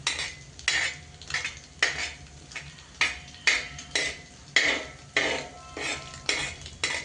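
A spatula scrapes and taps against a pan while a fried egg is pushed to one side in oil, giving a steady run of close, rhythmic metallic scrapes about every half second.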